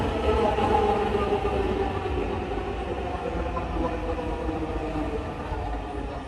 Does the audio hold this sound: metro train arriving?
yes